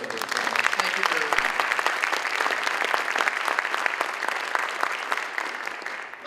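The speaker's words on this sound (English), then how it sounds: "Let's give them a round of applause." Audience applause at an alumni awards evening, dense sustained clapping from a crowd filling the room for several seconds, loud and steady before tapering at the very end.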